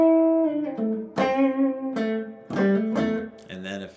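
Electric guitar lick played flatly and evenly, a short run of sustained picked notes with plain attacks and little variation, heard alone and close.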